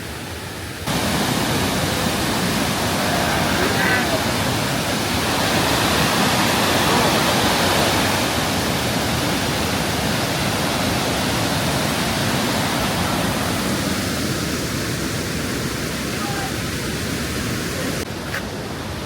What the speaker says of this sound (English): I have never seen a waterfall like that.